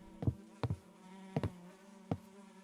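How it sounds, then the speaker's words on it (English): Buzzing bees in a horror video game, a faint steady low drone broken by a few soft thuds, with no one speaking. "I hear bees."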